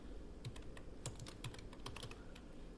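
Keys click on a computer keyboard during data entry in Notepad, light irregular taps with brief bursts and pauses, close and quiet, with no voices.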